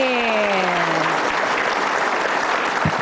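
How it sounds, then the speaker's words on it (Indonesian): An audience at a motivational talk applauds, a dense, steady wash of clapping heard close and loud, with a voice briefly trailing off over the start. "Berikan tepuk tangan untuk dia."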